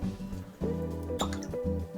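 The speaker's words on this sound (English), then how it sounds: "Well, better if I didn't splash a little." Blanton's bourbon whiskey pouring into a glass, a close gurgling trickle with a few soft splashy bursts, heard alone with no talking.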